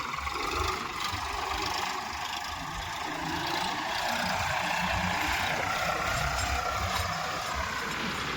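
A tractor engine idles nearby on a cotton farm, a steady low rumbling chug that holds constant throughout with no voices.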